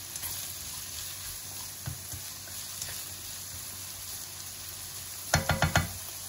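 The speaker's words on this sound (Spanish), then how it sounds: "mientras se nos sofríe la verdurita del salteado" A mushroom, zucchini and chicken stir-fry sizzles softly in a pan, a low steady fry broken by a quick burst of four sharp knocks or scrapes near the end.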